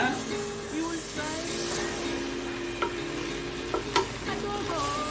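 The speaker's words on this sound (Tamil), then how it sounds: "லைட்டாக அப்படியே கிண்டி விடுங்க" A spoon scrapes and turns dum biryani rice in a pot, the rice having cooked down with quail and gooseberry gravy. Soft sizzling runs under it and a few sharp clinks and scrapes stand out.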